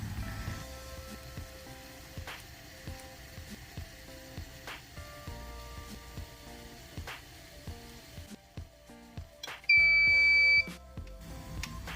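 An Instant Pot signals that pressure has built with a short, loud electronic beep standing out alone near the end, after a stretch of faint clicks and soft background noise.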